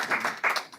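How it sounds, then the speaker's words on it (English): Brief scattered clapping from a few people at a regional board meeting, uneven bursts of hand claps in a room lasting under a second. "Round of applause for them, guys."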